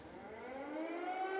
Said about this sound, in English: We're being slightly distracted here by sirens